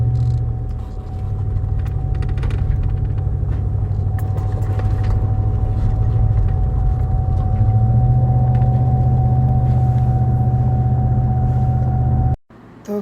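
A car, spoken of as American-made, drives steadily along a road at speed. A loud, continuous engine and road rumble with a steady tone runs throughout, then cuts off abruptly near the end.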